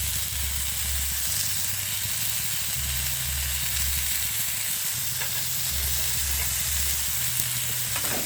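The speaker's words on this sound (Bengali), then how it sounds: "ভালো করে কষিয়ে নিতে হবে।" Chopped garlic and ginger with turmeric sauté in a hot pan, giving a steady, close, hissing sizzle that never lets up, broken by occasional stirring scrapes and a low rumbling hum underneath; nobody speaks.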